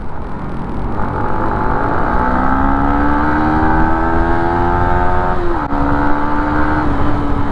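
A Yamaha Sniper 150 motorcycle fitted with an EASTAR SPEED plug-and-play ECU revs hard, its loud, close engine note climbing steadily in pitch for several seconds, dipping briefly at a shift, then holding high.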